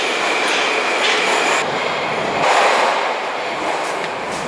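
A Moscow metro train in motion, its steady broadband rumble and rail noise heard from inside the car, swelling and easing slightly with no speech on top.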